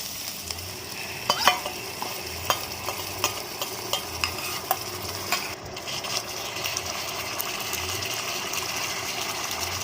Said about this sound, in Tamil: சில்லி சாந்து ஊற்றுறேன்